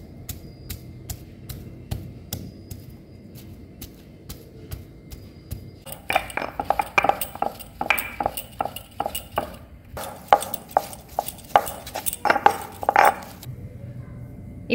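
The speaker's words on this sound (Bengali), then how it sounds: "এবার আমি শিলনোড়াতে খুব ভালো করে বেটে নেব।" Cooled roasted chicken pieces are crushed and ground on a shil-nora grinding stone. Sparse, light knocks give way to denser, louder bursts of rhythmic stone-on-stone rubbing and pounding, close by and with no voices.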